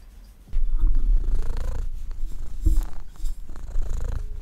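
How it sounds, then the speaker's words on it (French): A cat purrs close to the microphone, a steady low rumbling vibration that continues throughout with slight rhythmic swells of each breath and a few soft snuffling noises. "Que vous devez peut-être entendre ronronner."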